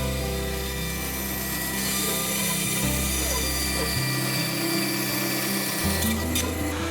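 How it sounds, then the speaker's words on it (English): Bandsaw rough cutting a wooden circle for a garden wheelbarrow planter, a steady loud mechanical drone with pitch shifts as the blade load changes, continuous throughout with no talk. "Then rough cut the circle with a bandsaw."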